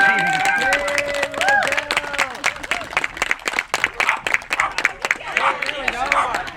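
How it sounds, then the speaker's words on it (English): Outdoor crowd applause at a water system rebuild groundbreaking ceremony in Rio Dell, California, mixed with cheers and overlapping voices and an amplified tone, lively and fairly close. "I think we need to give the Rio Dell community a round of applause."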